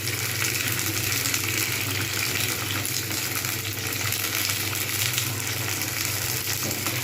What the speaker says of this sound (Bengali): শিমগুলো কিন্তু এপিট ওপিট করে আমি খুব ভালোভাবে ভেজে নেবো।